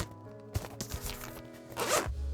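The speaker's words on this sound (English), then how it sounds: "Maybe a satisfying zip sound." The zipper on a Legion Go 2 handheld console's case being drawn open in a few quick pulls, close and crisp, ending in a longer rasping stretch.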